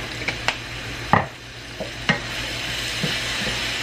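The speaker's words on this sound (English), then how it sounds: "Now I'm gonna add just a little bit of the sesame oil." Toasted sesame oil going into a hot pan, a soft sizzle under a handful of sharp utensil knocks and scrapes against the pan, close and moderately loud.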